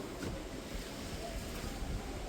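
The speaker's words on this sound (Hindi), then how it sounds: "बारिश हुई है, ठंडी ठंडी हवा आ रही है, हवा भी। तो गाइस आज तो भयंकर ही हवा चल रही है।" Strong cool wind blowing steadily outdoors after rain, a continuous rough rushing that buffets the microphone.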